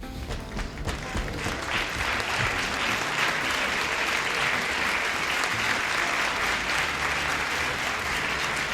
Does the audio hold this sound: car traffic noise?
no